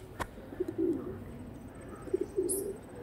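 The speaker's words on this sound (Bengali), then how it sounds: "নেক্সট বন্ধুরা আরেকটা সেম লাইনেরই পায়রা দেখাচ্ছি" Pet pigeons, a black-headed male paired with a white female, coo in low soft rolling phrases, two short bursts separated by a pause, faint and close with a single sharp click near the start.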